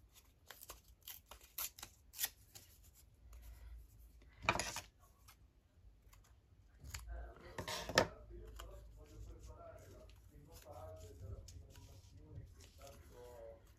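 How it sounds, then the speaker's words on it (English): Paper is torn down to size for a handmade mini notebook: soft rustling and handling noises, then two short, distinct ripping bursts heard close and fairly quiet. "I think I might tear this down."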